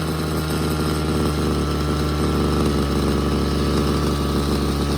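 Ryobi CS26 two-stroke string trimmer idling up close, a loud steady buzzing engine drone with a fast even putter and no breaks.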